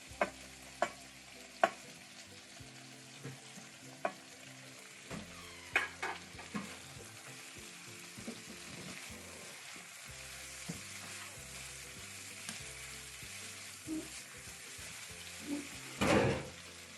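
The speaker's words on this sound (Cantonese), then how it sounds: "一齊大火炒佢。" Shrimp and lotus root sizzle steadily in a hot wok, stir-fried over high heat with a continuous frying crackle punctuated by sharp clanks of the spatula against the metal, with no talk.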